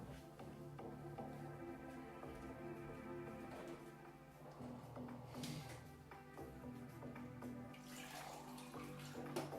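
A tap runs steadily for about ten seconds, a continuous rushing stream of water at low level under a faint tonal background hum, with no voices.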